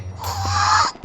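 A short, breathy spitting sound lasts under a second, followed by a low thump, close to the mic.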